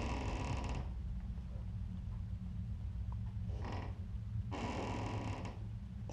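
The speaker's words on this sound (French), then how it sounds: "Ah, c'est la porte." A door creaks inside a large abandoned hospital, two drawn-out groaning creaks separated by a pause, heard alone over a steady low background hum.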